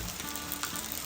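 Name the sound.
bhajiya fritters frying in oil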